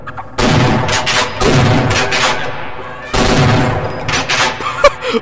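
Shotgun firing in the video game Half-Life, two loud booming blasts about three seconds apart, each with a crackling tail, followed by smaller clicks and effects.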